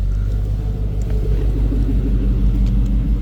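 A patrol car's engine idles steadily, a low continuous rumble with a faint hum, close by and alone with no voices.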